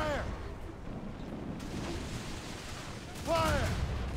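Ship mortar fire in the video game Assassin's Creed Rogue, distant booming blasts with falling whistles, one at the start and a louder one near the end, over a rumbling background.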